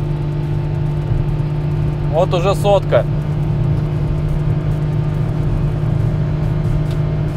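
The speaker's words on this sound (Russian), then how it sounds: "Я думаю, всем слышно мотор. Прям жму в пол сейчас." A Daihatsu Mira e:S 4WD kei car engine strains at full throttle in sport mode while heading downhill, giving a steady, loud droning rumble throughout, with someone briefly speaking over it.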